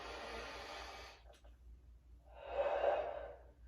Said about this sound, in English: remember our breathing technique. It's very important. Inhaling deeply through the nose